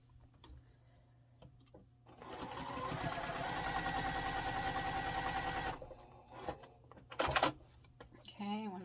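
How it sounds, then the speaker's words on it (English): A sewing machine stitches quilt block pieces together in a steady, fast mechanical whir lasting several seconds, framed by quieter handling clicks and rustles before and after. "I'm just going to start sewing them together"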